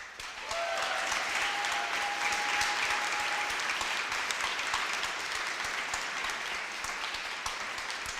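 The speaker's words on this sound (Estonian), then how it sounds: "Suurem aplaus." Applause from an audience at a student science festival award ceremony: a dense, sustained clapping that starts sharply and holds steady for several seconds at moderate distance, with a faint tone briefly above it.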